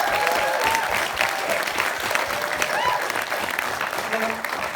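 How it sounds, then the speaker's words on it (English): An audience at a film premiere Q&A in a Dublin cinema applauds an actor, steady dense clapping filling the room at close range, with faint voices mixed in. "Please give Moe a round of applause."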